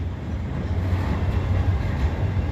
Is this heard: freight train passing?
yes